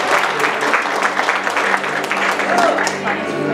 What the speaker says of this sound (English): give the God girls one more round of applause